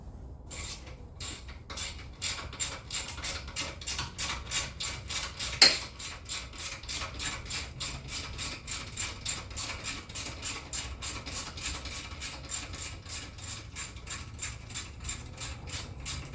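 Hand ratchet turning exhaust bolts on a Polaris RZR Pro R, a fast, even run of close metallic clicks that goes on for many seconds, with one sharper knock partway through and no talk.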